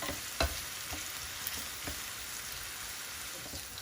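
Chopped onions with a teaspoon of salt fry quietly in a pan. A soft steady sizzle is broken by a few light stirring clicks, and no one speaks.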